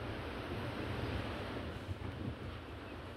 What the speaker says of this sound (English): the winds are picking up really strong